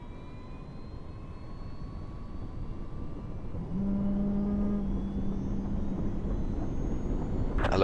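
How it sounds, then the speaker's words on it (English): Helicopter engine spooling up in the Project Reality military game, a rising turbine whine that grows louder and steps up to a steady hum midway, with no voices. "It's 30 seconds for the chopper to spool up."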